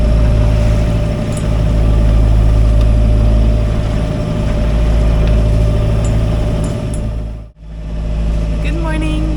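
Sailboat motoring under engine power on calm seas with almost no wind, a steady low inboard engine drone running throughout, with a brief dip near the end.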